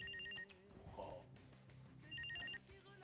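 Telephone rings in a Pakistani TV drama scene: two bursts of electronic bell-like ringing, quiet and clear, separated by a pause with faint background sounds.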